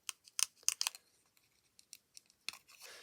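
Scissors snip through paper while cutting out a paper potion bottle for a handmade spell-remedy tag book, giving quick close crisp cuts in short bursts with brief pauses between them.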